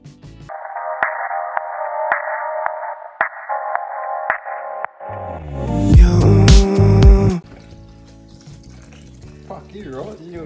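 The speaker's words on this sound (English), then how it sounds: "we're putting a cyclone in the blender with a Maduri and some extra vodka" A blender whirs loudly for a couple of seconds, blending a cyclone cocktail with Madori and extra vodka, after steady tonal sounds and talk, then fades to quieter background chatter.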